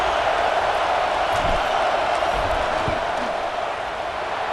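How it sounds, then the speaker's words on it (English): Steady, loud stadium crowd roar fills the whole stretch as the field goal unit lines up on fourth down in College Football 26, a constant wash of fans with a few faint thumps underneath. "This crowd trying to do its part to get inside the kicker's head."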